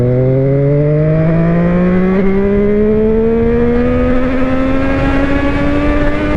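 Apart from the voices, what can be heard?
SWM motorcycle engine accelerating on the road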